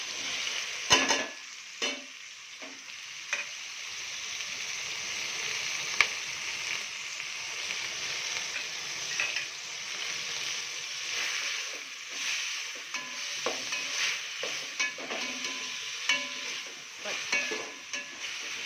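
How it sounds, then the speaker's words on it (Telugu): Vegetables fry in a pan with coriander and garlic paste for vegetable rice, a steady close sizzle broken by frequent clicks and scrapes of a spoon stirring. "పచ్చివాసన పోయేంత వరకు వేయించుకోవాలి."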